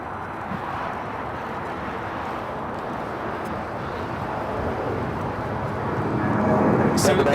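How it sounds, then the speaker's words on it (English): A Delta Boeing 757-200 arrives at LAX from San Jose, Costa Rica. Its broad, continuous jet rumble grows louder toward the end, with people talking over it. "This Delta 757-200 coming in from San Jose, Costa Rica,"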